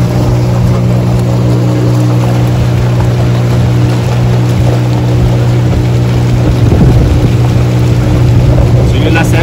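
A fisherman's boat motor running on the water, a steady, loud, droning engine hum that holds without a break throughout, close by and alone.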